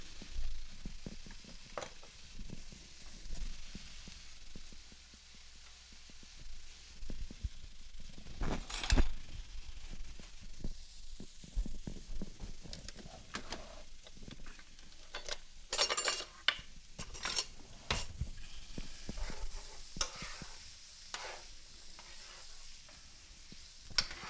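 Vegetables and chopped garlic sauté in a soup pot for potato and turkey sausage soup, a steady soft sizzle broken by repeated scrapes and clinks of a spoon stirring against the pot.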